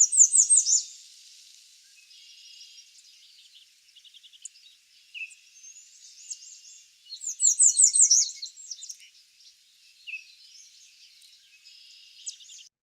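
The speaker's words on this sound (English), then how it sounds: "listen for those American redstarts" An American redstart warbler sings in a woodland recording: repeated bursts of high, thin, sibilant notes with quieter chirps between phrases, clear and close, with no voices.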